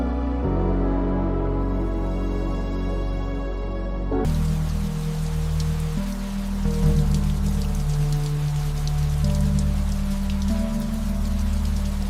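Rain pattering steadily on fabric and hard surfaces in a neon-lit Tokyo night scene, a dense continuous wash of drops that swells after a tonal opening, with no voices.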